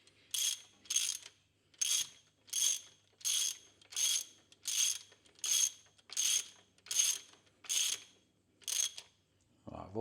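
Hand ratchet clicking while bolts are snugged gently on the engine of a first-generation Toyota 4Runner during a cooling system overhaul: about eleven even bursts of crisp pawl clicks in a steady back-and-forth rhythm, close and clear with no talking.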